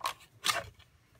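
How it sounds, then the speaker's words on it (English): Scissors snip through a paper card during Stampin' Up! fun-fold card making, two short crisp cuts close to the microphone with a quieter rustle after, no talking. "I'm going to go ahead and cut this one while I'm at it. Just trim this part off."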